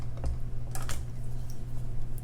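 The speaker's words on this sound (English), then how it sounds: "if you're gonna cut memory wire, always use special memory wire cutting pliers" Memory wire snipped with special memory wire cutting pliers while making a bracelet, giving a couple of sharp clicks over a steady low hum, close and fairly quiet.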